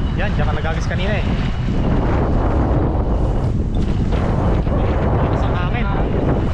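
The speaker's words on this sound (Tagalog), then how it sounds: "Lakas ang hangin." Strong wind blows hard across open water, a loud, constant roar and buffeting that fills the whole stretch without letup, with faint voices barely audible beneath it.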